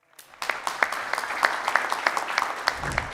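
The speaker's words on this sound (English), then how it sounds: "Round of applause from the founder of 4." A live audience at a startup pitch event breaks into applause, a dense crowd of clapping that rises quickly from near silence and holds steady, with a few sharper individual claps standing out.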